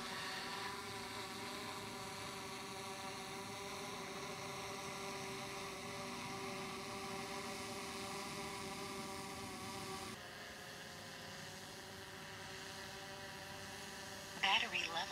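A DJI Mavic Pro drone flies away with a steady high-pitched propeller whine, holding a constant level before dropping slightly, with a brief sharp clatter near the end.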